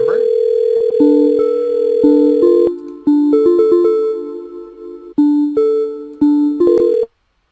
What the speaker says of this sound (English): that tone in your headset or in your speakers when the call comes in, that ringing tone